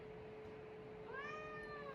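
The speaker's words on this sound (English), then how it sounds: "It's a kitten. It's 9 months old." A nine-month-old kitten lets out one drawn-out meow about halfway through, faint and fairly close over low room hum, with no talking.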